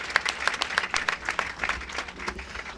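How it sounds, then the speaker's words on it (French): At a girls' high school event, an audience applauds a teacher, the claps loud and close with distinct individual hand strikes standing out in an irregular, lively rhythm over a short burst. "Applaudissements pour votre grande dame, Madame Sissé."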